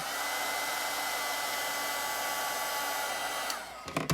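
Steady, loud whooshing roar of a heat embossing tool blowing continuously, cutting off near the end with a few clunks.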